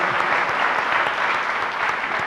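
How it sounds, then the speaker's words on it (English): Applause from the audience after a keynote session, a dense, even roar of clapping hands that carries steadily throughout with no pauses. "Let's give them a big round of applause."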